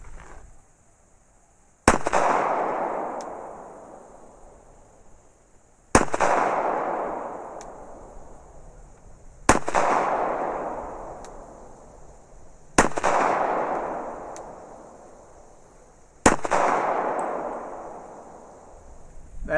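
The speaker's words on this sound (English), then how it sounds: "And we'll be shooting it out of the Glock 41." Five sharp, loud gunshots from a Glock 41 pistol firing .45 ACP 230-grain ball ammunition, spaced a few seconds apart, each followed by a long decaying outdoor echo, with no talk.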